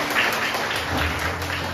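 A short burst of congregation applause at a Sunday church service, dense clapping that holds steady for a moment.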